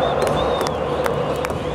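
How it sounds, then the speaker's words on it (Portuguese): Grêmio football supporters singing and cheering together inside the stadium, a dense, continuous roar of voices with some sharper shouts breaking through. "a torcida tá cantando bastante"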